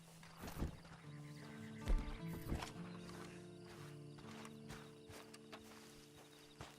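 A horse in Red Dead Redemption 2 Online snorts and shuffles with a few clopping hoof sounds, faint and mixed with game ambience and a low musical drone.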